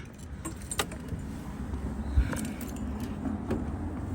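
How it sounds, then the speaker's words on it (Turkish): Car keys jangle in short metallic bursts outside a shop in Istanbul while a car is being locked, several sharp clinks spread over a few seconds against quiet street background hum, fairly close. "Dur arabamızda kilitleyelim."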